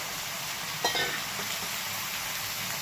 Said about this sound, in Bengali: শুটকি মাছটা দিয়ে একটুখানি ভেজে নিতে হবে সবজির সাথে।